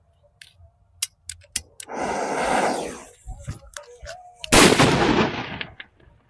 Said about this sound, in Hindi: ये किंग बम में आग लगाते हैं, और भाई देखते हैं किंग बम भाई कैसा साउंड करता है।